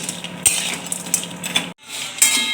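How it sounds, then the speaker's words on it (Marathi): Dry dates roasting in ghee while a spoon stirs them in the pan: soft sizzle under clinking metal scrapes and taps, close and fairly loud, with a brief break near the end before the stirring resumes. "ही जी खारीक आहे तुपामध्ये भाजून घ्यायची आहे"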